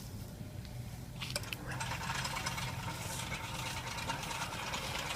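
A soil drilling machine with a single-phase AC motor and a 10 cm auger bit runs with a steady mechanical hum, picking up rattling, clinking noises partway through, moderately loud and without speech.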